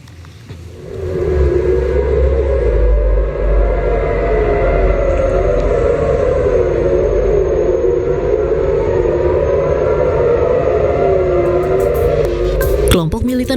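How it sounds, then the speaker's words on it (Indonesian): Air raid sirens wailing across Tel Aviv at night after a ballistic missile launch, a loud sustained rising-and-falling tone with steady low rumble beneath, continuous for most of the stretch before cutting off near the end. "Suara sirene pun bergaung di penjuru kota Tel Aviv Jumat malam waktu setempat."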